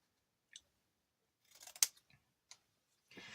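Green paper is cut by hand with scissors in a quiet room: a few sparse, crisp snips and crunches, close and distinct, with brief gaps of silence between them.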